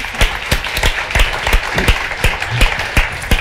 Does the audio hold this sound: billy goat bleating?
no